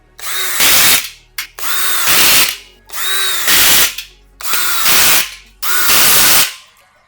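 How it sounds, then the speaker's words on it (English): A cordless drill with a socket drives bolts into a steel storage rack using its torque control, five loud whirring bursts of about a second each, the last one ending in ratcheting clicks, separated by short pauses. "I'm going to just use the torque control on the drill."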